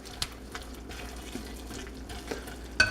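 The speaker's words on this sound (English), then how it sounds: "So we mix all this up nice and good" Hot peanut brittle mixture being stirred, with a few sharp scrapes and taps of the spoon against the pan over a quiet, low background.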